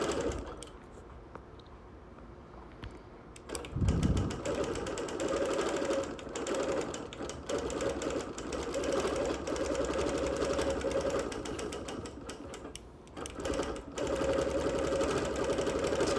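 Sewing machine quilting close edge stitching around 3D embroidery and appliqué on wool, a sustained steady motor hum with fast even needle chatter after a brief quieter start.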